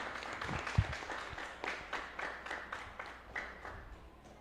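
A small gathering at a Catholic Mass for the feast of São Bento gives a brief round of applause, a soft ripple of rhythmic clapping that fades quickly, heard from a distance.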